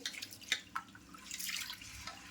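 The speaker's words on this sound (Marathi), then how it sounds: "तांदूळ ना मी आता असा धुवून घेते दोन वेळेला दोन पाण्याने" Soft watery swishing and a few light drips and splashes, quiet and close, as rice is rinsed in a bowl of water.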